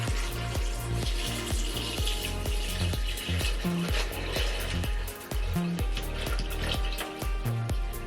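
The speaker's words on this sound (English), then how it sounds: "And now I'm gonna pour the water in here." Water poured into a home fish tank, a whole gallon going in as a steady, close splashing gush that runs throughout with brief dips in flow.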